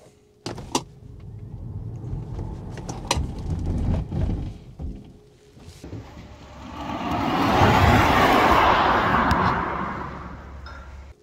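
Tesla Model 3 Long Range with four-wheel drive pulling away from 0 to 30 mph on a slightly wet surface, a rising electric whine and tyre rush building midway after a few clicks and thumps.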